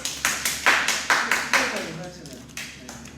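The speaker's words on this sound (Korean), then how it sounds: "투표하시는 분들 박수" A few people at a K-pop group's live stream clap in a sparse, uneven burst of sharp individual claps close by, thinning out after a couple of seconds.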